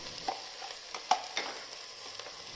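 Ground vegetable paste for spinach soup frying in a pan, with a steady hiss of sizzling and several soft stirring scrapes of a spoon at close range.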